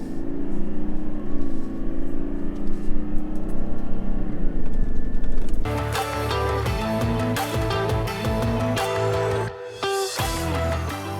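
A Toyota Landcruiser 300 stuck in a sand dune, its engine revving in pulsing surges before jumping to a louder, denser roar of strained revving and wheelspin that holds steady with a brief dip near the end.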